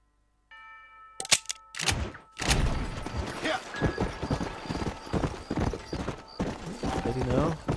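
Horse hooves clip-clop in a video game, a steady run of hoofbeats with clanks and a whinny, nearly constant under someone talking.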